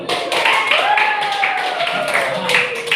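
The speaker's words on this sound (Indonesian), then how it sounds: "Beri aplaus dulu" A classroom of students claps together in a short burst of applause during a guidance lesson, the hand claps close and steady beneath a voice speaking over them.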